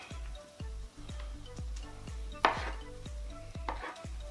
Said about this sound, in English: we're just gonna mince these up real good